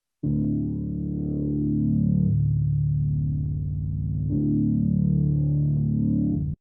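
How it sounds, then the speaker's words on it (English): A deep, sustained synth bass line plays alone, holding low droning notes with a shift around the middle, steady and fairly loud throughout. "I've queued up just the deep bass."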